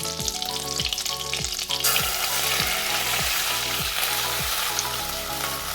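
Butter sizzles steadily in a pan while making chicken soup, with a regular beat of stirring or scraping strokes repeating under the frying hiss, which grows brighter and louder partway through.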